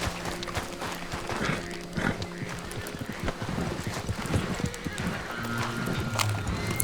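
Horse in the Red Dead Redemption 2 video game at night near camp, with clip-clop hooves and an occasional whinny over steady in-game ambience and background noise.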